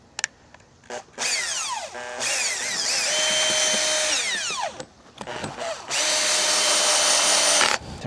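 Cordless power drill driving long screws to tack a rod tube onto a DIY kayak trailer, in two long high-pitched whirring bursts with brief pauses and short start-stop pulses between them, loud and close.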